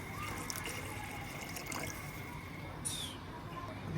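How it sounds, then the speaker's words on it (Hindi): Water runs into a pot of chicken daal being cooked, a steady close pouring and trickling sound with a few small drips and clinks, no one talking. "जितना पानी आपने डालना है उस हिसाब से डाल सकते हैं।"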